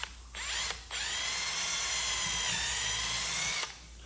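A power drill bores toothpick holes into a guitar neck, its whining motor running in three bursts: a short one, a brief stop, then a long steady run before cutting off.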